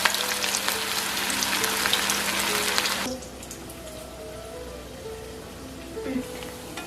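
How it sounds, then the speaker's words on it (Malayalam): Veg cutlets frying in oil over a medium-low flame, a loud dense sizzle for about three seconds that then drops to a quieter crackle with a faint hum. "അപ്പോൾ ഇനി ഇതൊന്ന് ഫ്രൈ ചെയ്തെടുത്താൽ മതി"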